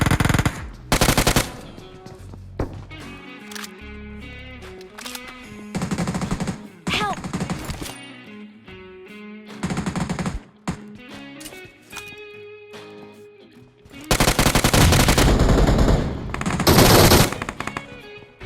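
Automatic and single gunfire bursts from the mobile battle royale game BGMI (PUBG Mobile), loud repeated volleys in several clusters with quieter game sounds between.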